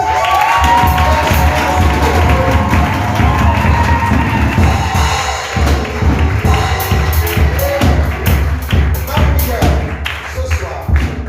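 A church conference congregation cheers loudly, with shouting, whoops and rhythmic clapping building into a continuous, energetic roar, and voices calling out throughout.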